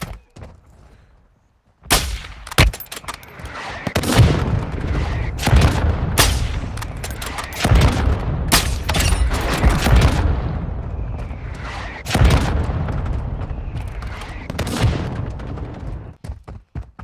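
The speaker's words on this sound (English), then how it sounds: "Hostile mortar strike incoming." Mortar strike explosions and gunfire from Warzone Mobile gameplay sound as a rolling barrage of heavy booms and sharp cracks, loud and continuous after a brief quiet start.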